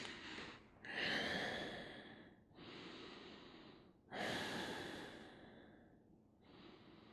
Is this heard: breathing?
yes